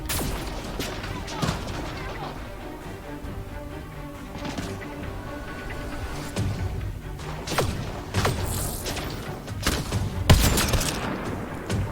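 Scattered gunfire in a Mass Effect Andromeda combat fight, irregular sharp shots and impacts of varying loudness over a cluttered background, with a louder burst near the end.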